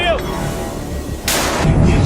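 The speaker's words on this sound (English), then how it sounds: "The mortar crew opens fire." Mortar fire from a mortar crew in combat, a sharp loud blast arriving partway through and followed by a rumbling tail, with voices and battlefield noise around it.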